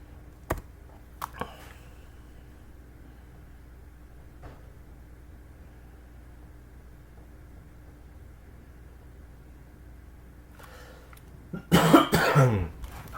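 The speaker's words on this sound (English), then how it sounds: "Can't stop coughing today" A few sharp coughs early on, then quiet room tone, followed by a louder burst of harsh coughing near the end.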